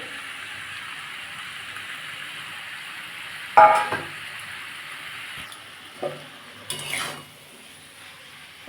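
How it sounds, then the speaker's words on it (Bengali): Potato and broccoli fry in a pan over a gas flame, a soft steady sizzle broken by a few louder scraping and clattering bursts of stirring; no talk. "আলু বকলি সব একটু ভেজে নেব"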